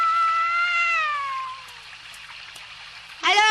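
A cat gives a long, drawn-out meow that slides downward in pitch, fairly close and clear, followed by a quieter pause and then a sharper, brighter cry at the end, with no talking over it.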